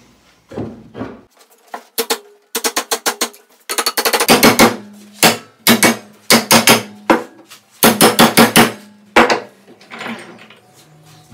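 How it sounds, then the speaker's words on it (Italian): Sharp metallic hammer taps on a bent metal woodworking clamp being straightened, struck in quick bursts of several blows with short pauses between, close and loud. "vediamo di darci due colpetti di martello e raddrizzarlo per bene"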